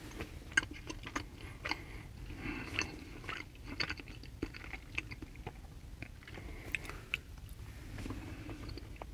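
Close, crisp biting and steady crunchy chewing of a small sweet cookie, eaten after a sandwich lunch, with irregular crackles and mouth sounds continuing for the whole stretch and no talking.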